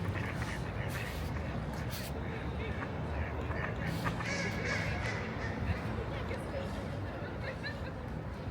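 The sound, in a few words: ducks quacking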